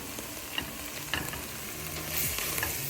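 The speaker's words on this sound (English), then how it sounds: "we're just gonna keep cooking it until the spinach has thawed and cooked into the onions and just warmed through" Thawed spinach cooking with onions in a pot, a continuous soft sizzle with occasional stirring scrapes and light clinks, close and steady without speech.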